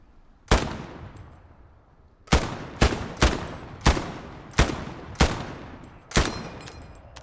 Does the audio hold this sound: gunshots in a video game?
yes